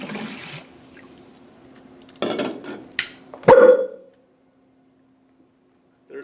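Hydrogen gas collected in a graduated cylinder ignites with a single sharp, loud barking-dog pop, followed by a brief ringing squeal. A few soft knocks come before it and near silence after it.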